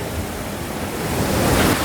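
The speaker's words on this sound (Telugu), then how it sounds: "వాటర్ ఫాల్స్ అయితే చూడడానికి అయితే చాలా బాగుంది" Water rushes steadily down the Mashenu Loddi waterfall, a dense, continuous roar that swells slightly toward the end, with no voices over it.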